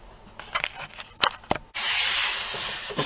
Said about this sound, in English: 2 minutes in the die grinder